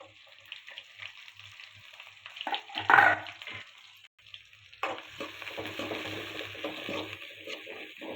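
Oil sizzles and crackles in a pan as mustard seeds, curry leaves and chopped onions fry for sambar, with stirring scrapes and a louder burst of spitting partway through.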